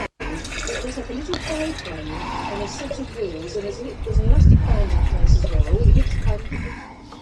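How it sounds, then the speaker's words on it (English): Water poured into the tender tank of a small Feldbahn steam locomotive, running and splashing steadily and growing louder toward the end while someone talks over it. "we'll top up the main tank in the tender"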